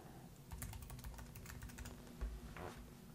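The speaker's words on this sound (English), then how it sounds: "as soon as you start typing in this top right hand corner" Fingers tap a computer keyboard in a quick, uneven burst of close, crisp key clicks, heard alone without any talking.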